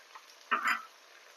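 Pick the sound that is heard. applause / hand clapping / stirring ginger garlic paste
stirring ginger garlic paste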